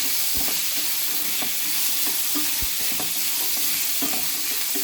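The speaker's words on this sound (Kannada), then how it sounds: "ಇದೆಲ್ಲ ಸೇರಿ ಒಂದು ನಿಮಿಷ ಫ್ರೈ ಆದರೆ ಸಾಕು" Soaked peas and mixed vegetables fry steadily in a pan for a vegetable pulao, a constant close sizzle broken by scrapes and knocks of a spoon stirring, with no talking.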